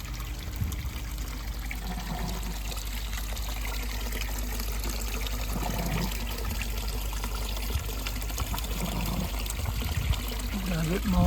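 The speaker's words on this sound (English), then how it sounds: "And getting some fresh water in." Fresh water pouring and trickling into a garden fish pond, a steady splashing wash that runs continuously at moderate loudness with faint background stirrings.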